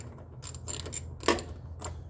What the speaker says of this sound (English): I don't know why I'm using a hand ratchet